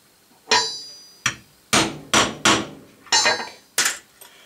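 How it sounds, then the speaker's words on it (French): Hammer blows on a center punch set into a wooden board, seven sharp, fairly loud metallic taps in an uneven rhythm, each ringing briefly before fading, with no voices. "Donc, mon pointeau."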